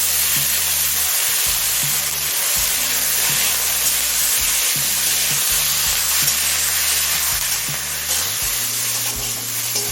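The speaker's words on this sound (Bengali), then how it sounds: "গাজর আর আলুটা ছ সাত মিনিট হাই করে ভেজে নিয়েছি" Potatoes and carrots fry on high heat in hot oil seasoned with whole cumin, a loud steady sizzle with occasional stirring scrapes and no talk.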